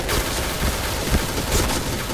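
AK-47 fire in the shooting game Point Blank comes as a dense, muffled rattle of shots with a few louder thumps standing out, continuous for the short stretch.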